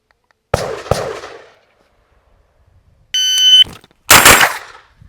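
Pistol-caliber carbine shots fired outdoors at a shooting range: two sharp reports in quick succession, then the shrill electronic beep of a shot timer followed by one more loud shot with a trailing echo.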